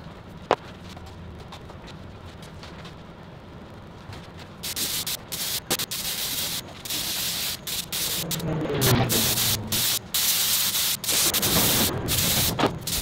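Primer sprayed onto car body panels: after a quiet start, bursts of hissing spray come in repeated passes, fairly close, with brief gaps between strokes and no voices.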